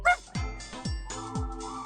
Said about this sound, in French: Tu aboies.